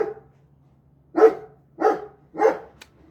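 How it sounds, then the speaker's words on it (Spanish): A dog barks three times in steady succession, each bark loud and close, with a low steady hum underneath and no talking. "Nada que hacer si el perro ladra."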